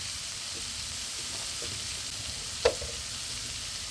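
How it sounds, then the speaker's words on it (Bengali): Cumin and coriander powder frying in a pan, a steady soft sizzling hiss with a few faint scrapes and one brief clink, close and even with no talk. "জিরে, ধনে গুঁড়ো দিয়ে দিলাম।"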